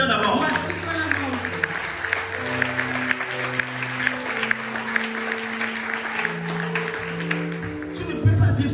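A church congregation applauds in sustained, dense clapping that runs the whole time, mixed with tonal voices rising over the crowd.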